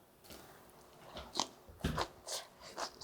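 Seasoned mung bean sprouts crunched in the mouth, a quiet series of crisp, snappy bites and chews close to the mic, with no talking.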